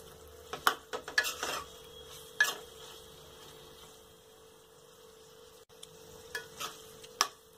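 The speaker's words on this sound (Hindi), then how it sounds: "हम घी में जब तक आलू भूनेंगे तब तक हमें अपनी कलछी को ऐसे ही चलाते रहना है" A ladle stirring potatoes frying in ghee over low heat, with scattered soft scrapes and clinks against the pan, quiet between strokes over a faint steady electrical hum, no voices.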